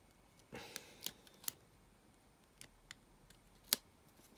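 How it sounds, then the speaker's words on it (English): Scissors snip open a mail package in a few sharp, quiet cuts, with light rustling of packaging between them. "Get the old trusted scissors out."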